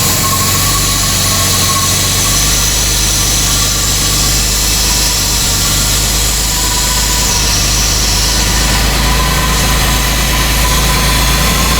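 A 2005 Chevy Equinox 3.4 engine idling with a large vacuum leak, a loud, close, continuous low rumble with a steady hum that stays even for the whole stretch.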